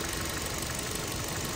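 A 2017 Kia Rio with a 1.6 engine idles steadily, a continuous low mechanical hum and faint knocking rattle that holds even and unbroken throughout, heard alone without voices.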